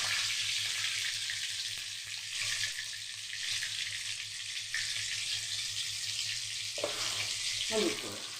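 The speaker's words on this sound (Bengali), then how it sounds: "আলুটা এখানে ভাজা হতে থাক।" Potatoes frying in a pan with salt and turmeric, a steady soft sizzle that carries on throughout at close range, with a brief clatter of stirring near the end.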